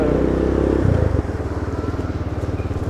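A ROKK 150cc motorcycle engine idles with a loud, rapid pulsing throb that shifts to a steadier, lighter chugging rhythm, close by and without speech.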